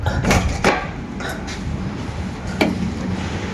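A room door swings open with a few sharp clicks and knocks from the latch and handle, set against a steady indoor background hum.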